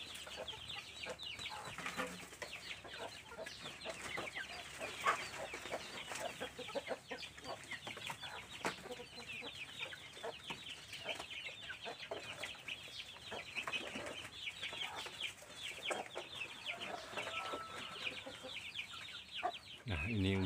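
Jeki crossbred chickens, including a breeding hen, cluck constantly in a dense, busy flock chorus that carries steadily through the whole stretch, with overlapping calls close by.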